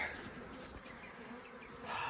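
A swarm of honey bees buzzes around a hive and up in a nearby tree, a faint continuous droning hum of many insects at once.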